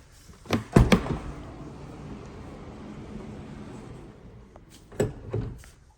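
The sliding side loading door of a 2024 Volkswagen Transporter T6.1 Kombi clunks and rolls open with a loud mechanical thud, followed by a quiet stretch and then two more sharp latch clunks near the end.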